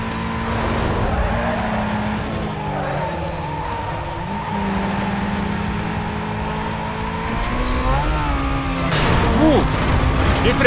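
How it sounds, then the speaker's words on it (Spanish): A car braking hard and skidding in the racing game Need for Speed Most Wanted, with a steady engine drone and long tire squeal lasting several seconds, swelling louder toward the end, and a voice briefly heard over it. "¡Qué frenazo pegado!"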